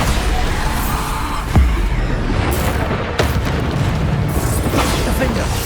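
Spell blasts thud and boom in Hogwarts Legacy on PS5, a couple of sharp explosive hits rising out of a dense, continuous bed of game combat noise and rumble.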